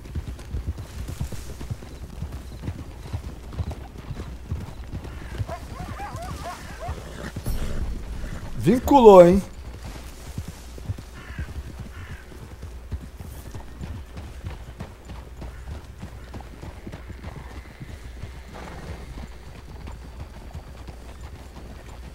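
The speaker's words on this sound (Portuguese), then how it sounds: "eu tô ouvindo muita correria, acho que tem cavalo aqui pra dentro" Hoofbeats of horses running in a video game, rapid clip-clop rhythm at a moderate distance, with a brief whinny-like burst midway, under a voice talking.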